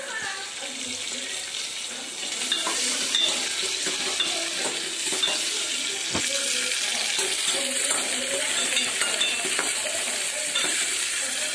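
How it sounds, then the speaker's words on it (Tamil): Onions frying in a pan with salt and curry leaves for agathi keerai sambar sizzle steadily, with scraping stirs and occasional clinks throughout, no talk. "இது கொஞ்சம் நல்லா வணங்கிட்ட வெங்காயம்"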